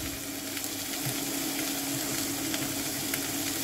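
Steady, close sizzling of 100 grams of finely chopped carrots frying in a pan, with faint stirring clicks throughout and no voices.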